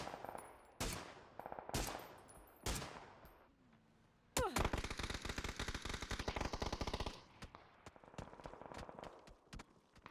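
Gunfire in a PUBG match: a few spaced single shots, then a long rapid automatic burst, followed by sporadic fainter shots at a moderate distance.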